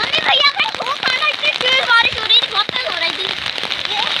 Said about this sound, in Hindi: बारिश इतनी ऐसी हो रही